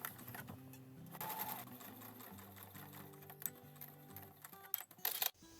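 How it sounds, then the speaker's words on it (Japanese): A sewing machine topstitches the opening of a small fabric mini shoulder bag, a rapid even mechanical whir with steady needle ticking that pauses and restarts, ending in a few sharp clicks. "入り口部分に1センチのステッチをかけます。"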